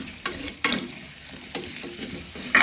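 Onions and four green chillies stirred in a frying pan for tomato rice bath, a steady close sizzle broken by several sharp scraping strokes of the spatula.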